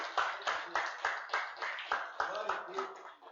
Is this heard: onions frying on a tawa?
no